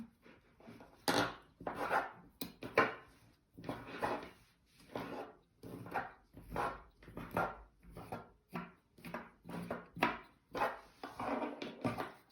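A comb is drawn through macrame cord fringe in repeated brisk brushing strokes, each a short scratchy rasp, steady and close with brief pauses between passes.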